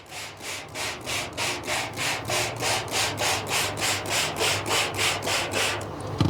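A screen-printing screen being rubbed softly by hand, with a steady rhythmic back-and-forth swishing of about fifteen even, close strokes and no talk.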